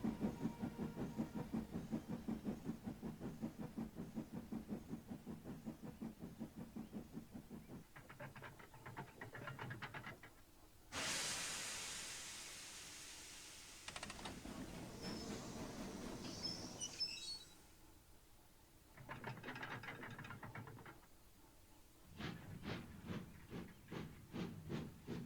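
A steam railway engine hisses in bursts over a steady rhythmic chugging, with loud broad blasts of released steam, pauses and a final run of sharp repeated puffs, close and continuous with no voices.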